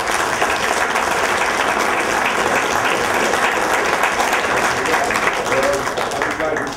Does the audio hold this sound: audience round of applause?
yes